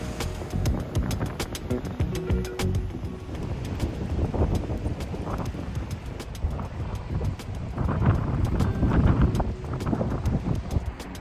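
Steady wind buffeting the microphone aboard a ferry heading to Palm Beach, a continuous broad rush with gusts swelling louder toward the end, over a low engine and water rumble.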